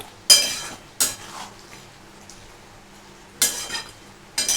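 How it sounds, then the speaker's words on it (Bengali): Malai paneer being stirred in a pan with a little white oil added, a few sharp metal clanks of a spoon against the pan separated by quiet gaps, faint sizzle underneath, no voices. "একটু সাদা তেল আমি ওপর থেকে একটু মেশাবো দিয়ে এটাকে আমি একটু নাড়াচাড়া করবো"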